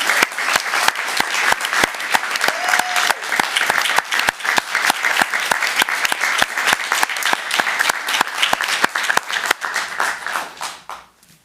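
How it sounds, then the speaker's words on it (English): Audience applause at a city council meeting, loud and dense clapping from a crowded chamber, sustained evenly for several seconds before tapering off abruptly at the end. "Give them a huge round of applause."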